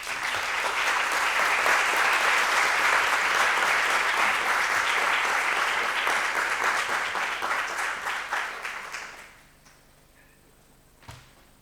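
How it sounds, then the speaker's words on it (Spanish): Sustained audience applause at a colonial memory symposium welcomes speaker Elvira Dyangani, dense and steady for about nine seconds before fading out, followed by a quiet room and a single soft thump. "Un aplauso, por favor."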